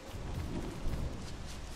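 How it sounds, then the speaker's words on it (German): Rain in the video game Don't Starve Together falls as a steady, dense hiss with a low rumbling undertone, continuous and fairly loud throughout. "Oh nein, es regnet."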